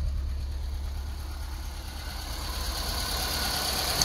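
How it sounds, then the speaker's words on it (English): A four-cylinder Honda Civic CVCC engine idles with a low, steady putting pulse through its exhaust, close and continuous with no talk. "You can hear all 4 cylinders popping."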